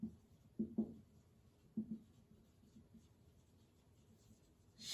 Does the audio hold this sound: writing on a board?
yes